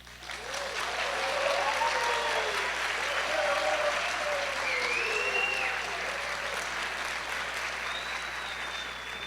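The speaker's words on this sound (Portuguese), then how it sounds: "eu queria que vocês dessem uma salva de palmas para uma pessoa muito especial que está aqui, que é o Oscar Beoso" An audience at a summer course gives a sustained round of applause for a special guest, Oscar Beoso, with even, continuous clapping and faint voices mixed in.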